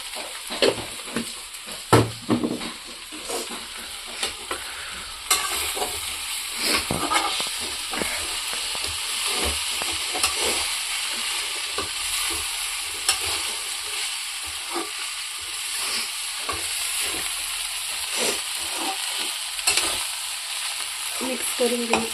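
Poha is stirred and fried in a pan, a continuous close sizzle and hiss broken by frequent quick spatula scrapes and taps that come in rapid irregular bursts throughout, with no voices.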